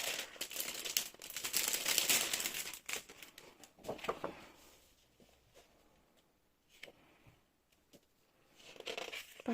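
A Paper for You Halloween paper pad is unwrapped close by, with crinkling plastic and rustling paper in uneven bursts, quieter handling in the middle, and a last rustle at the end.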